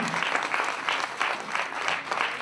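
A crowd applauding the master Firoz Abbas Khan at a film master class, with dense, steady clapping that swells in waves and stays loud throughout.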